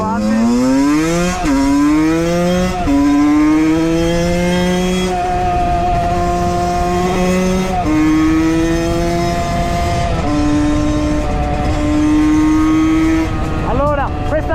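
A Valenti 50 motorcycle on a test ride revs loud and close, its high-pitched two-stroke whine climbing through gears in repeated rising sweeps with short dips at each shift, rising sharply again near the end.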